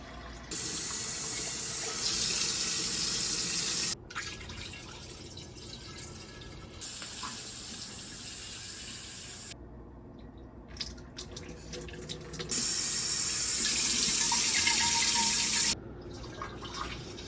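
Cider pours in bursts, a rushing stream splashing through a strainer, stopping and starting several times with short pauses between.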